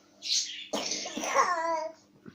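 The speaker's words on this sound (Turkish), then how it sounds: "Öksürüğün mü var senin?" A young child gives a short breathy cough, then makes a drawn-out babbling vocal sound, close by in a quiet room.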